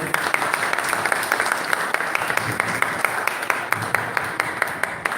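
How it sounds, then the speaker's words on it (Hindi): Applause from an audience at a morning Hindi religious discourse gathering, steady rapid clapping filling the room for several seconds with sharp individual claps standing out. "इसलिए सब लोग तालियां बजाएं।"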